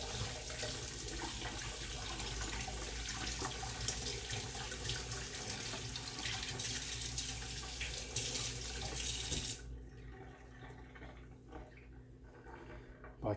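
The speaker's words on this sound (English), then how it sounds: "Give that a good rinse off." Lobster is rinsed under running tap water at a sink, with a steady gushing stream close by that cuts off near the end, leaving faint drips and a quiet room.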